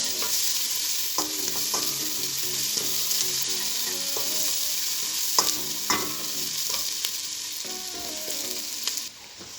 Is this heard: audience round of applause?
no